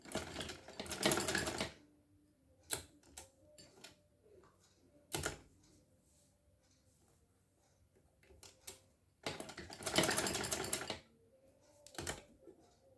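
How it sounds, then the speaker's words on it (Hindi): A sewing machine runs in two loud bursts while stitching a zigzag pintuck design on trouser fabric, the needle held down for each turn. Quieter clicks and handling noises fall between the runs, with no talk. "वहाँ पे सुई रखते जाएंगे और सिलाई करते जाएंगे"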